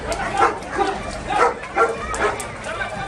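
Several dogs at an outdoor dog show with more than twenty breeds including Siberian Huskies, Dobermans and Miniature Pinschers, giving repeated short barks and yips at close range over steady crowd chatter and background voices.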